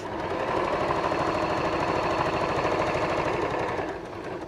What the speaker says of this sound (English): And then couple of lock stitches